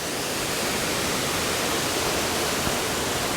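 Steady, dense roar of Duden waterfall in Antalya, broadband rushing water heard close and loud, unbroken throughout with no voices.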